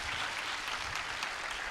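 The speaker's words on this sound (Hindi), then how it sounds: "तो एक बार फ्रंट ऑफिस के लिए सब जोरदार तालियां बजाएंगे बेटा" Steady applause from an audience at a motivational talk for NEET students, a dense even patter of clapping for the front office staff, filling the whole moment without any voices over it.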